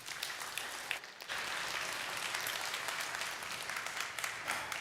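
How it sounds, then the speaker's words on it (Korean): A church congregation applauds at a Korean Sunday worship service to welcome the preacher, a dense steady clapping that dips for a moment near the start and then carries on evenly to the end. "우리 큰 박수로 우리 환영합니다."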